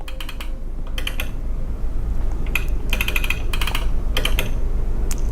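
Someone types a name on a computer keyboard, setting up a fader label on a lighting controller: several quick bursts of clicking keystrokes with short pauses between them, close and clear over a steady low hum.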